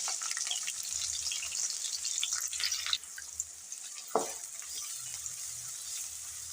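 Onions frying with green chillies in a pan, a steady loud sizzle running throughout, with brief stirring scrapes and a clink near the middle.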